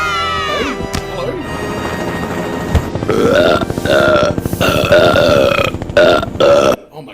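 Cartoon burping from a Simpsons Treehouse of Horror Halloween episode: a long, loud, rumbling belch with shifting pitch rolls on for several seconds after a brief opening of other cartoon sounds.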